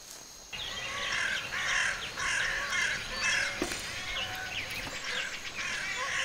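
Several crows caw repeatedly in open air, harsh overlapping calls arriving in bursts one after another, fairly close and loud, with no talk.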